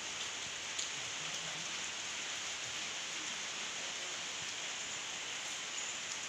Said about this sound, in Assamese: বৰষুণ দিছে, ঠাণ্ডা পেলাব চাগে।